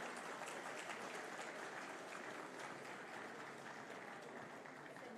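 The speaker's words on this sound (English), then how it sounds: "Please welcome him with a hearty applause" A large conference audience at an education event in Visakhapatnam applauding a chief guest, steady sustained clapping that sounds distant and fills the hall throughout.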